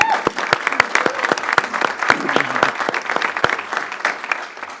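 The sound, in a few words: audience applause at board meeting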